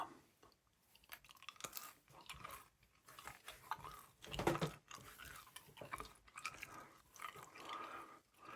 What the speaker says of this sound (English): I'm going to chew some gum.